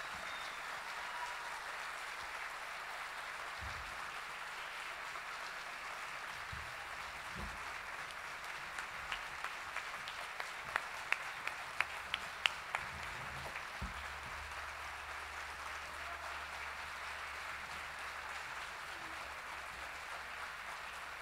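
An audience at an outdoor jazz concert in Beylikdüzü applauds a singer, a long, steady wash of distant clapping with a few sharper nearby claps partway through.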